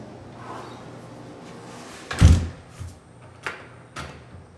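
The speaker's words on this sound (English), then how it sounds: "Door does latch." A furnace cage door swinging shut with a solid thump and latch click, followed by a few lighter knocks and taps nearby, no voices.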